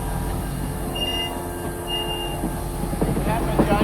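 A Florida East Coast train moving a caboose rumbles steadily along the rails, with a low continuous roar, faint high squeals, and rhythmic clatter building toward the end.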